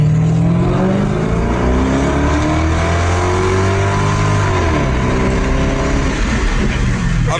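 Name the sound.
straight-piped car engine revving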